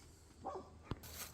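Dogs bark at a distance on a rural property near an orchard and a rebuilt bank, giving one faint, short woof over outdoor ambience.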